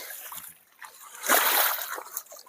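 Fish feed poured into a pangasius pond hits the water with a broad, close splash and sloshing that swells midway and lingers, preceded by faint scattered splatters.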